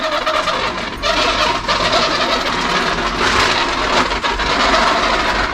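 Loud, dense bubbling gurgles churn continuously with a rough, warbling quality, resembling a turkey's gobble, steady and close throughout.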